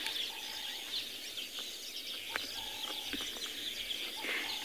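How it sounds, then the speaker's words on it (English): Weaver birds call at sunrise in the bush on safari, a busy chorus of chirps and chatter at moderate distance over steady background noise. "Something very, very special about weavers."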